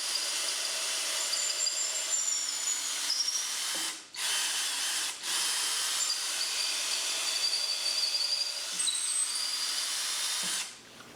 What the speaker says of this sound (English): You've got to drill in 3 7/8 inches to get the bar as far in as you can